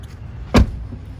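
A single solid thud as the door of a Tesla Model Y shuts, short and close, with a deep low-end thump over faint background hum.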